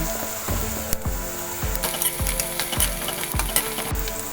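Chopped green chillies and curry leaves hit hot oil with a loud, steady sizzle and crackle, with repeated stirring knocks of a spoon against the pan.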